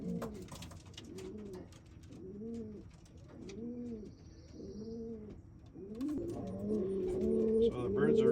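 Racing pigeons coo in their loft, a regular run of soft throaty coos repeating about every second close by, with more birds joining in a busier overlapping chorus toward the end.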